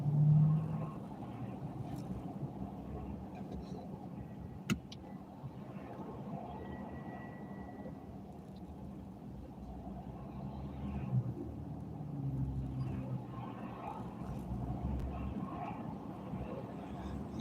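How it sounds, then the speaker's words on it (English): Road traffic passes as a continuous low rumble of engines and tires, fairly faint and steady, with occasional swells as vehicles go by. "That's crazy traffic, isn't it?"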